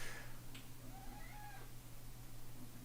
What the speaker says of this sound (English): there's a cat over here